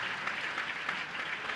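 An audience at a cultural programme gives brief, soft applause, a quiet, even patter of clapping heard from a distance.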